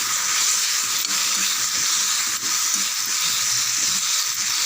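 Tomatoes sauté in a covered pan, giving a steady, loud, unbroken sizzle and hiss that holds evenly from start to finish.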